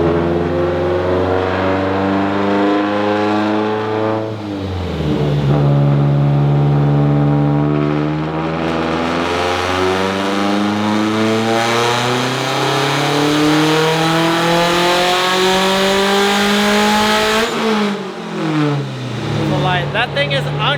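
A tuned Subaru WRX STI engine revs hard and ear-piercingly loud, pitch climbing and falling in long surges, with two sharp drops between the roaring pulls.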